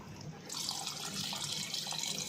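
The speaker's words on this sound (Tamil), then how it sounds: "இப்போ நம்ம கொஞ்சமாக தண்ணி சேர்த்துக்கலாம்." Water poured into simmering beef gravy in a cooking pot, a steady rushing pour that starts sharply and runs continuously and fairly close.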